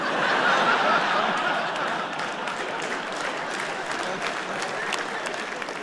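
An audience of men at a Jimmy Carr stand-up comedy show applauding, steady dense clapping that stays loud throughout with a little laughter mixed in.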